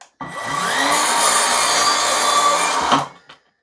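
An Evolution R185CMS 18V cordless saw cuts through wood in one steady, loud, continuous pass of about three seconds, with the motor whine spinning down at the end.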